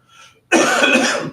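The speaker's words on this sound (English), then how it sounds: "I'll apologize now one time for the nagging cough" A single loud, harsh cough bursts out after a moment of quiet, close to the microphone, during a school board of education meeting.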